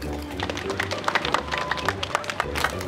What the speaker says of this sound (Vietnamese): chúng ta cho một tràng pháo tay dành cho cô Ánh Thư